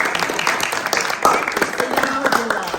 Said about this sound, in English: thank you, big claps for that